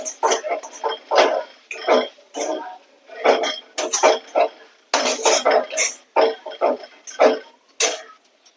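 Spices and vegetables being sautéed in a pan for nimona, a Purvanchal dish, heard as repeated close metal spoon scrapes and clinks against the pan in uneven bursts, with no talking.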